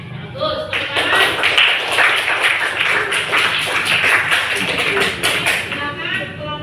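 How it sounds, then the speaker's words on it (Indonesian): A classroom group claps hands for a student presentation, a loud, brisk flurry of many close claps with individual sharp slaps standing out, continuing steadily for several seconds. "Bagus, tepuk tangan."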